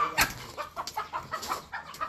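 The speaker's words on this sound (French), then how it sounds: "Tu vas bloquer les poules avec ça." Chickens cluck in a quick series of short, fairly close calls, one louder squawk near the start followed by a rhythmic run of clucks.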